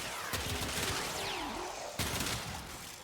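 Weapon fire from the Scourge Prime in the Warframe video game, heard as a couple of quiet, sharp bursts with sweeping electronic tones between them, alone without speech.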